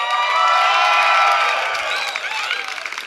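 A live New Year's Eve comedy show crowd cheers, whoops and applauds in a loud, dense burst that slowly thins out, with scattered shouts above the clapping.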